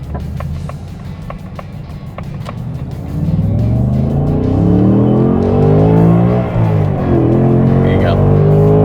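A 2024 RTR Mustang Spec 2 in drag mode pulls hard, its engine note swelling from a low rumble into a loud, rising and falling revving roar as it accelerates, with interior noise and a few taps early on.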